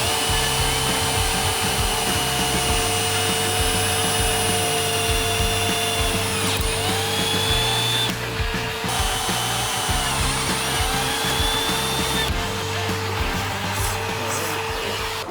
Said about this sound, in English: now is where I get to drill 2 fucking holes in the truck